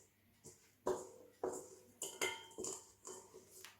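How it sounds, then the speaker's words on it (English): Bread dough for a white farmhouse loaf is lifted out of a metal stand mixer bowl, giving a handful of separate clinks and knocks of metal and utensils, close and fairly quiet, with no talking. "I'll take it out of the stand mixer bowl"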